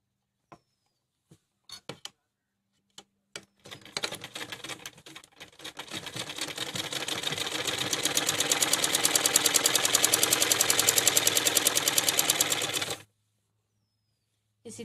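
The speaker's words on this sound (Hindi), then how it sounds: "यहाँ से अब हमें ये सिलनी है। इस जगह से इसकी शुरुआत करनी है सिलने की।" After a few scattered clicks, a sewing machine starts stitching a jumpsuit, building to a close, rapid, rhythmic run of needle strokes that holds for several seconds and then stops abruptly.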